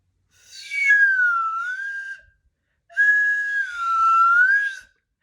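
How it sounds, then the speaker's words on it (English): A slide whistle plays two long, smooth tones, each gliding down and back up in pitch, separated by a brief pause, clear and close with no other sound. "That's called a slide whistle."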